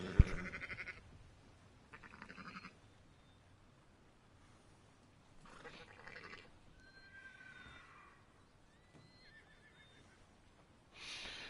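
Horses whinnying in Red Dead Redemption 2, a few high neighs scattered among quiet game ambience, moderately distant and alone without talk.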